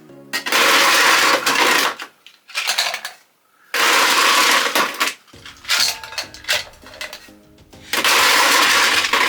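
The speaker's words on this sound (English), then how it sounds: "So now we're going to add our ice." Ice cubes tumbling and rattling loudly into a metal cocktail shaker for a Long Island Iced Tea, several clattering pours separated by brief pauses, close and bright with no talking.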